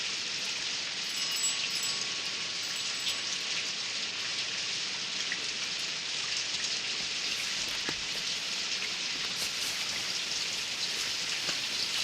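A sudden February rain shower falls with a steady, even hiss of drops striking surfaces, continuous and moderately loud.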